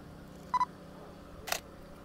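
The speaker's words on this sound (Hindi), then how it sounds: "अब फिर से फ़ोटो क्लिक करते हैं।" A Nikon D7500 DSLR with an 85mm lens fires its shutter outdoors, giving a short double click near the start and a sharper mechanical snap a second later, both close and crisp over quiet background hiss.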